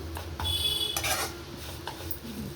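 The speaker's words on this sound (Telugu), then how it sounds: "మునగాకు ఇలా బాగా కలుపుతూ ఫ్రై చేసుకోవాలి." Drumstick leaves frying in a pan while being stirred, with a metal spoon scraping and clinking against the pan in quick, irregular strokes under a faint sizzle, close by and with no talking.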